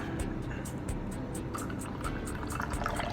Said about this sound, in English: I like to start pouring fairly high because I want the coffee to mix very well with the water